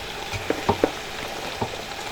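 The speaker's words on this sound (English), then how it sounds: "So I'm just gonna add the spinach to it now." Spinach goes into a pan of bubbling efo riro, a Nigerian vegetable stew with king prawns, giving a steady close sizzle and frying hiss with a few soft thumps and rustles as the leaves land.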